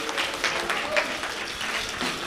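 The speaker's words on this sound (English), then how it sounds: "I want to give a big round of applause to Amy Mattathias, Aaron Chusit, and Augusti" Audience applause at a Purim puppet show, a steady wash of clapping from a crowd that holds at an even level for a couple of seconds.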